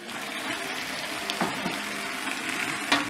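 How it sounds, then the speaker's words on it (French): Smoked sausages dropped into a simmering pot of cabbage stew, giving a soft bubbling, wet sloshing sound with a couple of small splashes and clinks, close and moderately loud, with no talking. "à ce moment-là, je vais y mettre mes saucisses fumées"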